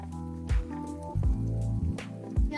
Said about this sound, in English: And we're gonna put all the vegetables just like that.